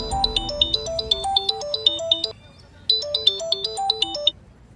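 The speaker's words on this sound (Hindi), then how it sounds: "देखिए आपका फोन आ गया।" A melodic electronic phone ringtone signals an incoming call, its bright repeating tune playing loud and clear in two bursts separated by a short pause.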